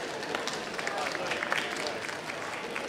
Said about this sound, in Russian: Поддержите аплодисментами, леди и джентльмены.